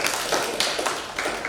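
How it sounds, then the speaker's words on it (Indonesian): Students in a classroom clap their hands together in a dense, continuous patter of overlapping claps lasting a moment, fairly close and steady in loudness, with no talking. "Oke, tepuk tangannya mana?"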